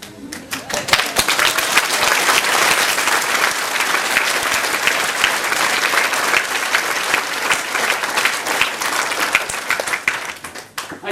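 A theatre audience at a Christmas show applauds steadily, dense close clapping filling the whole stretch with a few louder claps on top and no voices.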